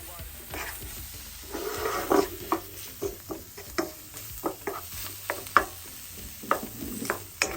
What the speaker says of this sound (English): Saute some onions with the green seasoning, and then I'm gonna add some curry.